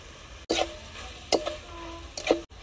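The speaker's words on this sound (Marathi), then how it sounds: "आता छानपैकी मिक्स करून घेऊ" Vegetables and spices with red chili powder and turmeric stirred in a frying pan, a soft steady sizzle broken by three short scraping stirs, faint and close.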